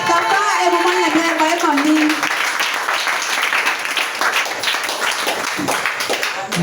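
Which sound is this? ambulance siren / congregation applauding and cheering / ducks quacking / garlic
congregation applauding and cheering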